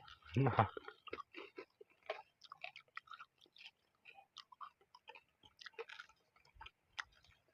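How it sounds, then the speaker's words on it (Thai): Someone chews crispy fried Thai pork belly close to the mic, with one loud crunchy bite followed by a steady run of smaller crackling chews and clicks, without any talk over it. "หมูกรอบอะมันก็กรอบอยู่แล้ว"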